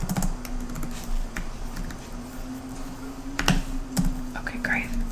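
Typing on a computer keyboard during a role-played hotel check-in, a steady patter of light clicks with a few sharper key strikes, close and soft over a faint background hum.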